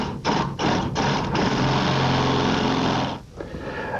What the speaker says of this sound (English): Let's go ahead and drill our hole.